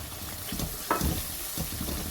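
Green chillies, spring onion and a little mint sizzle as they go into a pan of fried masala for aloo bhurta, a steady close frying hiss with a brief louder burst near the middle and stirring scrapes.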